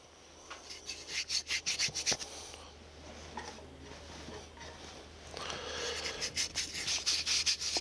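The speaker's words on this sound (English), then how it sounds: "you just take your sawdust that you saved from sawing and you just rub that into the glue" Saved sawdust is rubbed into glue on wooden joints, giving rhythmic, close, scratchy strokes in quick bursts, with a quieter gap midway before the rubbing resumes.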